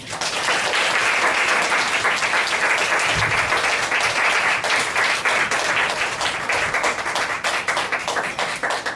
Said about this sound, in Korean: 박수로 목사님 환영해 주세요